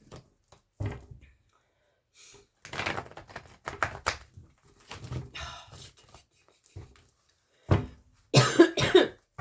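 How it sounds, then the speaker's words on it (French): A few sharp coughs burst out near the end, loud and close, after a stretch of scattered speech and small noises. "j'ai toussé un bon coup là"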